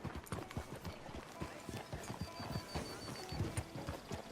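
Horse hooves clip-clop in Red Dead Redemption 2, a soft, steady run of quick, evenly spaced hoof strikes, quiet and alone.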